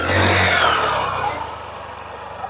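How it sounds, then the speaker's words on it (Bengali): A motorcycle climbs steep stone steps on Parasnath Hill in Jharkhand, its engine revving hard and close at first, then fading to a fainter drone as it moves away, with no voices. "মধ্যে বাইক নিয়ে যাচ্ছে"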